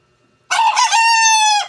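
A voice imitates a rooster crowing, a single loud, close cock-a-doodle-doo that rises and then holds a long, clear, tonal note, alone with no other talk.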